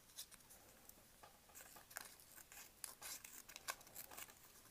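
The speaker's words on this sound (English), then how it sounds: "There you go, nice clean cuts, excellent scissors." Quiet, crisp snips of the small scissors on a DeWalt multitool cutting, a quick irregular series of sharp clicks and slicing bursts with no talking.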